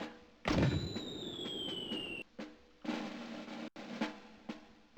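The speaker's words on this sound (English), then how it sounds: "A mortar." A mortar explodes in the Army Men game, a heavy booming burst with a falling whistle-like tone, followed by several more thuds and blasts spread across the scene.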